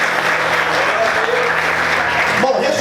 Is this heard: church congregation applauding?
yes